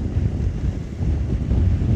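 Steady, loud wind roar buffets the microphone while riding a 2020 BMW S1000XR motorcycle on the road, a continuous low rumbling rush with no voices.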